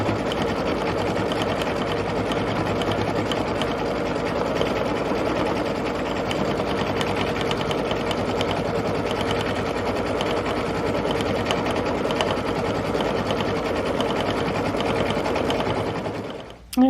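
A sewing machine runs continuously and close by, stitching down a filler piece and its design for a quilt block, a steady fast mechanical whir that stops abruptly at the end.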